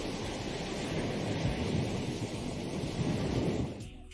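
Ocean surf rolls in a steady, loud wash of breaking waves with wind noise, continuous throughout before easing off at the very end.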